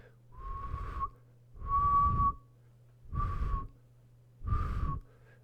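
A tennis racquet with strings hidden in a tunneled bumper guard whistles through the air in four separate swings, each a clear whoosh with a rising whistle, spaced about a second apart and close by.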